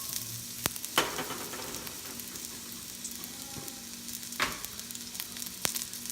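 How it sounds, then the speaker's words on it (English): Chopped onions frying in hot oil in a pan give a steady, close sizzle, broken by a few sharp clicks and scrapes as they are stirred. "We put oil already on our pan here. Now we're gonna add our onions."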